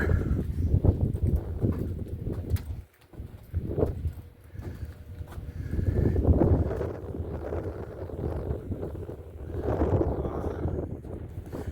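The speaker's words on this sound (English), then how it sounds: "Sorry about the wind." Low rumbling wind buffets the microphone steadily on the roof of a 1976 GMC G30 camper, surging and easing in gusts with no clear talking.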